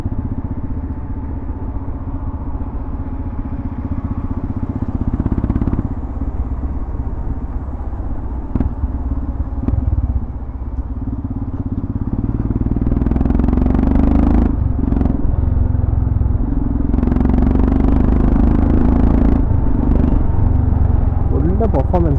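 Heavily modified stage 2 tuned Royal Enfield Himalayan 411 Dakar motorcycle idling close by, a steady low engine drone that swells louder in the second half, with clattering mechanical noise and some nearby voices.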